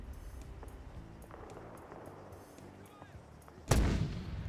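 Artillery fire in a military video game: one heavy, booming impact strikes near the end and then rumbles away, after a stretch of low, faint background noise.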